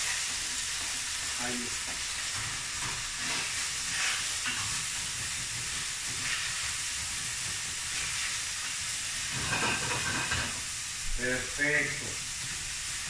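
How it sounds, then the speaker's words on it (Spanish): Panceta and onion frying in a little oil and fat in a hot pan, giving a steady close sizzle and hiss with occasional stirring, while a voice briefly speaks over it. "Vamos a poner nuestra panceta a sofreír y la cebolla."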